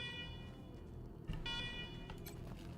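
A security alarm in the video game Wasteland 3 sounds as a sustained electronic tone with stacked harmonics over a low rumbling background, briefly interrupted by a thud partway through; no speech.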